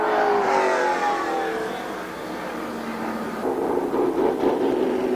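Race cars roar around the oval at Columbus Motor Speedway during a main event, engines revving and droning loudly as the pack passes, with the pitch shifting as the cars come through.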